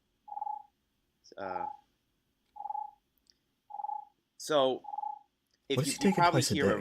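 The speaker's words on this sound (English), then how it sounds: "That's the sound of my phone ringing." Phone ringer giving short repeated electronic tones, about five bursts evenly spaced alone in quiet, with brief bits of talk between them and a voice speaking at the end.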